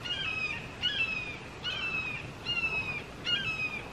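A hawk calls repeatedly beside a river, a series of sharp descending screeches spaced about a second apart, moderately loud and slightly distant over quiet outdoor ambience.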